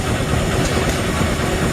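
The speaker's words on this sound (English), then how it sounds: "Okay, here's a Rumley steam engine." An Advanced Rumley steam engine drives an industrial machine at an engine meet, giving a steady, loud mechanical rumble and hum close by without any pause.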